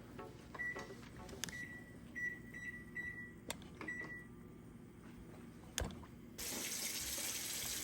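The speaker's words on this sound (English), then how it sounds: "Part of cooking is, doing the dishes." Kitchen faucet water runs into a sink during dishwashing, a steady close splash with clatter and a few beeps, swelling to a louder, fuller gush near the end.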